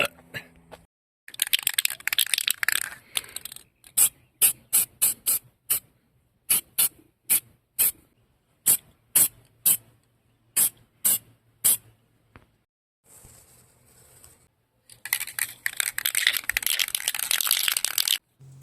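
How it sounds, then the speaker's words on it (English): Ace clear coat sprayed from an aerosol can onto an old-school BMX frame, a long hiss, then a run of short sharp bursts in quick succession, then longer hissing passes, all close with no talking. "And back at it again with the Ace Clear Coat."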